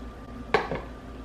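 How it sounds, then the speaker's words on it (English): A utensil scrapes once against the side of a bowl of protein fluff, a short clink and scrape followed by a fainter second touch, close and quiet. "So I just scrape the sides, get all that in there"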